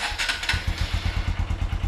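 Honda XR150 motorcycle engine running on its stock exhaust, a steady, quiet, low thumping putter with rapid regular pulses, close by and alone.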